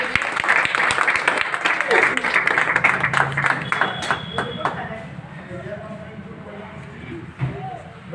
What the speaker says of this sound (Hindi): एक जोरदार तालियां बजाएं